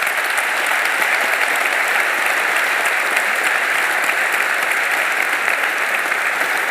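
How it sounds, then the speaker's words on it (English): An audience applauds at a speaking event, loud sustained clapping from a large crowd that holds steady and dense without pause for the full stretch. "I think that's worth a round of applause."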